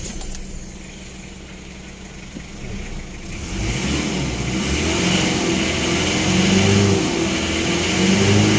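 Car engine revving up from a low idle, a rough mid-pitched drone that climbs and holds at higher revs with slight wavering, close and steady, no talk.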